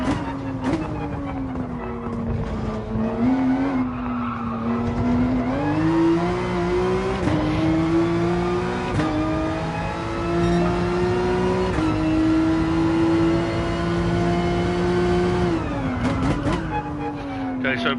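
A race car engine drones and revs at Spa in Gran Turismo Sport, holding a steady tone with gear changes and rising and falling pitch, while someone talks over it throughout.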